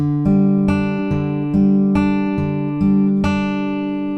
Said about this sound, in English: we're just going to pluck the open 5th string, open 4th string, and 3rd string